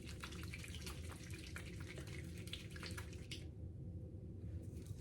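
Tap water runs steadily into a bathroom sink while facial cleanser is worked into a lather, a close, constant splashing hiss that thins out near the end.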